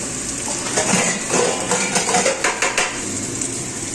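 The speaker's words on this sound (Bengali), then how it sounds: "চামচ দিয়ে এটাকে দিয়ে আদা রসুন ধনে বাটাটা দিয়ে দিচ্ছি।" A metal spoon clinks and scrapes against a pan while scooping in ginger, garlic and coriander paste, giving a quick run of close, bright taps.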